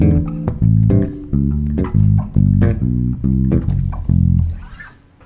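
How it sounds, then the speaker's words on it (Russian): Bass guitar sounding a jazz ii-V chord progression, a series of sustained, evenly spaced chords played alone with no talk. "К примеру, в джазе встречается часто оборот 2-5,"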